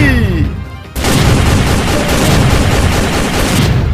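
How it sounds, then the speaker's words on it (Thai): A toy gun sound effect in an animated toy adventure blasts in suddenly after a brief quieter moment, then keeps up a loud, dense burst of rapid gunfire with booming impacts. "อันนี้ปืนโกโกวาสุดแรงเลยนะจะบอกให้"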